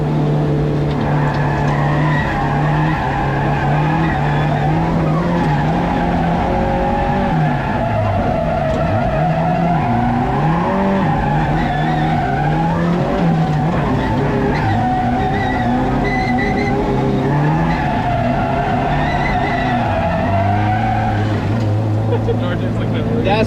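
A Barra-engined 1200 whp Mustang drifts with loud, sustained tire squeal and engine roar that hold steady throughout, while people talk over the noise.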